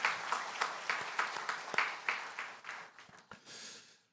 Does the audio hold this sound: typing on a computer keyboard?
no